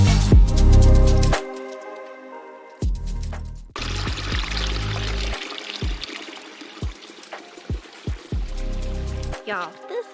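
Flat Laurel Creek in Pisgah National Forest flowing over rocks, a broad hissing rush in the middle stretch, with a voice talking before it and brief sounds breaking in toward the end.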